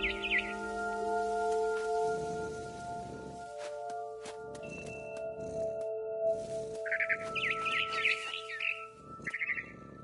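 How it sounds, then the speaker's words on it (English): Bird chirps from a barn swallow in the video game What Remains of Edith Finch: short high tweets in scattered bursts over a humming ambient music bed, moderately faint. "Then I heard chirping outside my window. It was a barn swallow going back to her nest."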